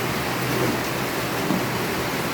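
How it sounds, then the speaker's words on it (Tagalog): Heavy rain pours steadily, a dense, loud, unbroken roar of water with no gaps or voices. "Grabing ulan isa mo no."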